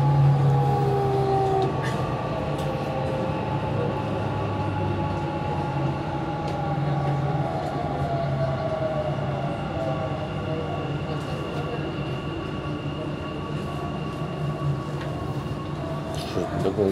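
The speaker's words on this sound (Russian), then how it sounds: "Довольно длинное метро." A Dubai Metro train runs steadily along the track, its loud continuous rumble and whine steady throughout with faint tonal hums and occasional voices in the carriage.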